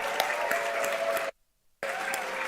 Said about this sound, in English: let's give all of our nationally board certified and recertified teachers a big round of applause.